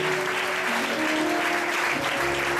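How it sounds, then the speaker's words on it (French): A congregation at a wedding blessing ceremony applauds, continuous dense clapping from many people heard close and loud with some tonal background sound underneath. "Applaudis quand même maintenant."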